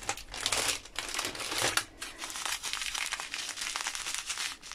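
Plastic zip bags holding diamond painting supplies crinkle and rustle continuously up close, busy handling sounds with no talk over them.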